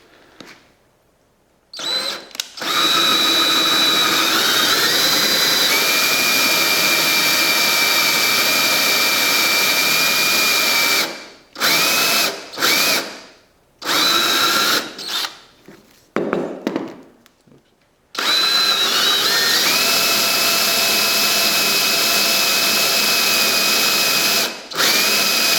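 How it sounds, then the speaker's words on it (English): Power drill boring a 3/8-inch-deep hole into a wooden block, a loud steady whine that starts, runs continuously, breaks into several short stop-start bursts, then resumes for a long final run, with no talking. "so let's go ahead and bore a hole"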